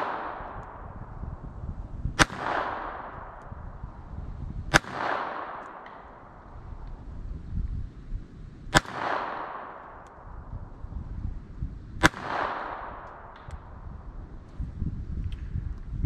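Four sharp pistol shots from a Bulgarian Makarov ring out at irregular intervals, each followed by a ringing decay as rounds strike a steel spinner target roughly 20 yards away, over low outdoor background noise.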